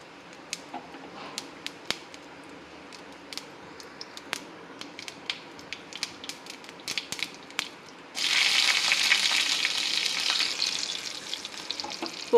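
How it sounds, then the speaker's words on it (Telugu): Tempering of mustard seeds, cumin and green chillies in hot oil for a tamarind pulusu: scattered crackles and pops at first, then a loud, dense sizzle bursts in for the last few seconds, with no talking. "పోపు వేగింది."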